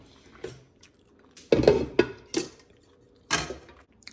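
Lids set down on pots of cooked food in a home kitchen: a few separate sharp metallic clanks and knocks spaced over a few seconds, close and fairly loud.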